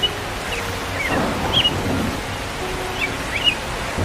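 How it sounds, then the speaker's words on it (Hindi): Rain pours down in a village scene of a birds cartoon, a loud, continuous wash of noise with a few faint chirps rising above it and no voices. "बारिश शुरू हो गई ना"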